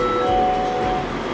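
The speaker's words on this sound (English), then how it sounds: "Welcome aboard the plane train." Steady low rumble and hum of the Atlanta airport Plane Train, the automated underground people mover, rolling along its track, with faint tonal whine and a light clink under the continuous noise.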